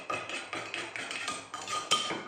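A pestle pounds steadily in a mortar while papaya salad is made with field crab and hog plum, giving about ten rhythmic, close, moderately loud thuds with a slight wooden knock, no voices over them.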